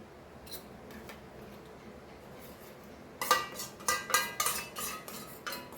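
Homemade sweet and spicy sauce goes into a pan of chicken lollipops with unsalted butter. A quiet start with a few soft ticks gives way to a burst of close metallic clinks and scrapes of a utensil against the pan.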